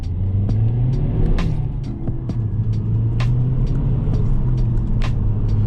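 The turbocharged engine of a 2011 MazdaSpeed3 hatchback hums at a low, steady pitch while accelerating, with a loud rumble and scattered clicks and ticks over the top.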